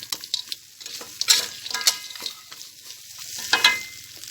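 Field rat meat stir-fried with pork cracklings in lard sizzles close by in short bursts, as spatula scrapes and tosses come in an uneven rhythm.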